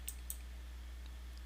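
A mouse clicks twice on a leave-group icon: two quick, faint clicks close together near the start, then a quiet, low steady hum with no voices.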